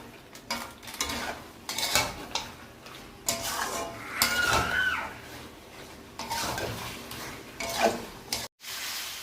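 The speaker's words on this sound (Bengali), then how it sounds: "আর কেটে রাখা খাসির মাংসের চবড়িটা দিয়ে দিলাম, দিয়ে এর সাথে আমরা কষিয়ে নেব" Pieces of mutton fat are sautéed and stirred in a pan with salt, giving a steady close-up sizzle with clinks and scrapes of a spatula against the metal pan, and no talking over it.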